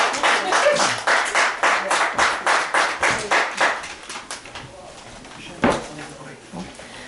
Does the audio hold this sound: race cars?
no